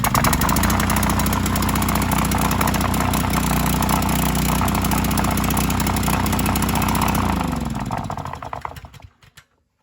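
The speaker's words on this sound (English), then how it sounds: "This is a weird one because it has a fuel injector, so you just turn it on and it's self-choking and everything." A fuel-injected Subaru 210cc engine on a Scag edger runs steadily at a loud, even idle for about eight seconds, then shuts off and winds down into silence.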